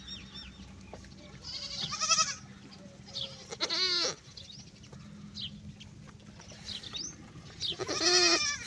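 Goats kept at a home farm bleat several times in separate wavering calls, fairly close, with quiet gaps of low background hum between them.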